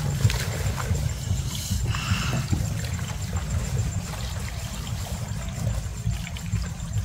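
Water pours steadily from a newly installed shower in a small hut, a continuous close rushing and splashing stream with no voices.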